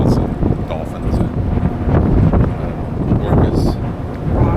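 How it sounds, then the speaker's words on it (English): Strong wind buffets the microphone outdoors on a windy Alaskan coast, with steady, loud rumbling gusts that last throughout the clip and mix with muffled background voices. "It's very windy out here today."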